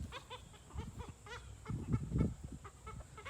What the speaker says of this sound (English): Two little cockerels.